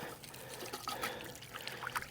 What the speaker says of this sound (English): So take the water hose, wash it out.